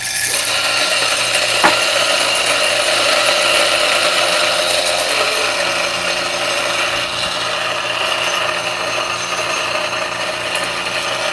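DF64P espresso grinder fitted with a Gorilla Gear black burr grinds at a finer setting, giving a steady, loud mechanical whir with faint ratcheting and rubbing texture that runs continuously with no voices.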